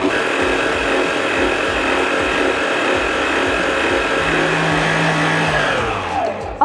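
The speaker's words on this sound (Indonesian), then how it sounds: "Masukin aja telur sama gula dulu, lalu kita kocok di kecepatan sedang dulu." An electric hand mixer whirs steadily at medium speed, beating eggs and sugar for a Lapis Surabaya layer cake batter, a loud continuous motor drone that winds down at the end.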